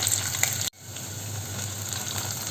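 Chopped shallots sizzle in a hot pan for Kottayam-style fish curry, a steady close frying hiss broken once by a brief sharp cut before the sizzle picks up again and carries on without any voice.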